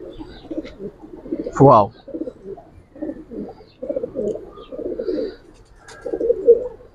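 Giribaz and colored pigeons cooing in soft, repeated low calls at a pigeon market, with people talking over and between the coos throughout.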